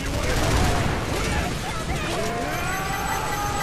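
Missile launches and gunfire in the video game Earth Defense Force, a dense, continuous roar of rapid shots and explosions filling the clip, loud and close, with voices talking over it.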